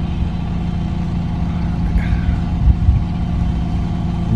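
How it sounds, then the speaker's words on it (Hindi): Car engine running steadily inside a car in the quiet residential streets of Palm City, Gujranwala, giving a continuous low hum with no one talking. "जस्ट मेरी गाड़ी की आवाज़ आ रही है"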